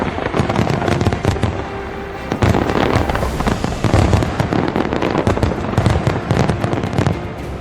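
Fireworks burst continuously at a presidential inauguration ceremony in Virginia, a dense rolling barrage of loud cracks and booms with no pauses and no voices.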